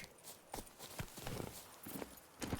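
Hooves of Roach, the horse in The Witcher 3 video game, clip-clop in a steady trotting rhythm, moderately close, with several distinct thuds spread across the clip and no speech over them.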